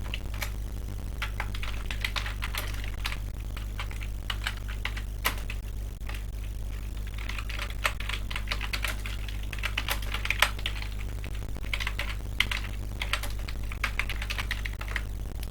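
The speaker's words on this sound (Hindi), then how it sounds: "मैं इसे टाइप कर लेता हूँ" Steady typing on a computer keyboard, with quick irregular key clicks continuing for about fifteen seconds over a low constant hum, close and clear with no talk.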